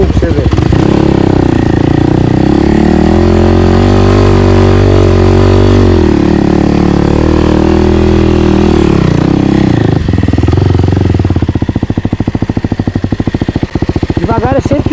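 Kawasaki KLX 300R dirt bike crawling slowly up a dry trail slope, its engine loud and close with a steady low drone that thins into a rapid throbbing idle-like pulse near the end.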